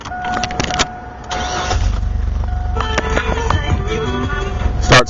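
A Chevrolet Blazer engine cranks and catches, then settles into a steady low idle, with a brief rattle near the end; heard up close with no talk over it.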